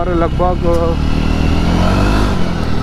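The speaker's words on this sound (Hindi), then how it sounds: "और भाई यहाँ एग्जॉस्ट नोट है भाई" A Jawa 42 2.1 motorcycle with a single-cylinder, four-stroke, liquid-cooled engine makes a steady, close exhaust rumble that runs the whole time beneath someone speaking.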